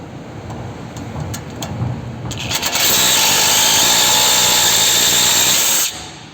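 A power tool on a 2014 Mercedes-Benz CLA250 tightens the stud of a sway bar link: a few short clicks and bursts, then a loud, steady, close whine for about three seconds that stops sharply.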